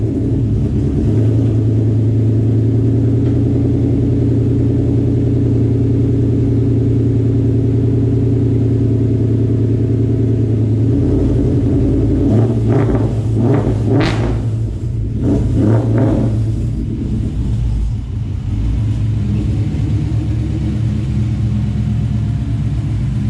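A car with a Ford Coyote engine pulled out of a home garage, a steady low idle rumble that holds for a long stretch, then a few short throttle blips rise near the end.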